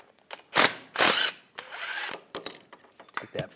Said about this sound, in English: We're going to use a 10mm socket. Take this nut off.